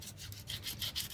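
Sandpaper rubs rhythmically across a duck egg's shell as it is prepared for salted eggs, a close, dry, repeated scratching in quick even strokes with no talk.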